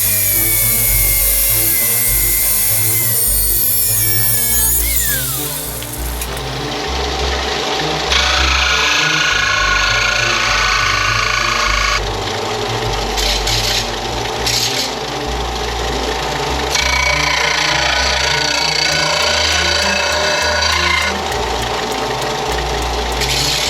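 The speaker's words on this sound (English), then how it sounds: "go over to the workbench and cut some pieces of that bar stock that I already have" Metal bar stock being cut at a workbench during a 1992 Pontiac Firebird rebuild, a loud, steady grinding saw sound running continuously with brief changes in pitch and intensity.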